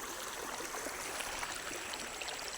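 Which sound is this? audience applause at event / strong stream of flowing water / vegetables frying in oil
strong stream of flowing water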